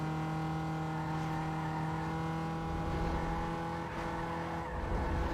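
A race car engine in Need for Speed Underground 2 drones at a steady, loud pitch throughout, with slight rises in revs and some faint tire noise and no voices.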